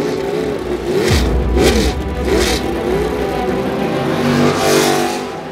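Autonomous race car engines revving at a racing event, loud close bursts of rising and falling engine whine with several overlapping revs and wooshing passes.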